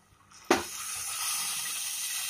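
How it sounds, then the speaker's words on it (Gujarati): Water is poured into a potato curry in a pan. A sudden splash starts a steady rushing hiss that carries on to the end. "હવે ફરી પાછું થોડું પાણી એડ કરીશું."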